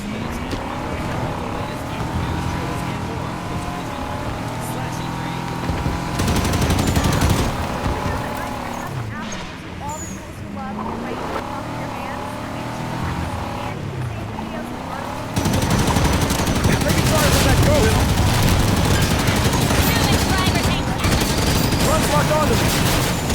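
Halo 5 battle on a beach with a Wraith tank, rumbling engine drone and bursts of gunfire and explosions running continuously, louder and denser toward the end, with a voice talking over parts of it.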